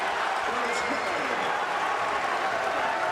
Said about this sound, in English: Crowd liking what they're seeing from Curtis Kelly in the early going this season